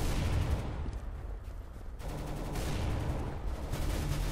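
Dense, continuous gunfire in Counter-Strike: Global Offensive, rapid shots blending into a loud, steady roar of weapon fire with slight pulsing, heard without any voices.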